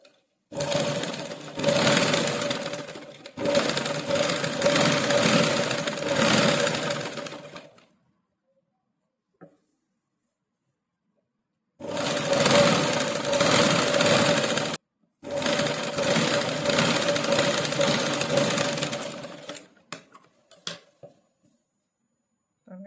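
A sewing machine stitches saree blouse fabric in several loud, rapid, continuous runs of a few seconds each, separated by silent pauses and a few faint clicks.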